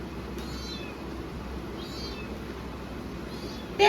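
A hungry cat that has gone without food since morning gives three thin, high meows spaced a second or so apart, fairly close and moderately loud over a steady low background hum.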